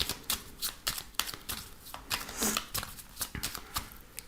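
A 32-card deck shuffled by hand for a cartomancy reading, with rapid riffling and flapping card bursts repeating in a steady rhythm, close and continuous without talk.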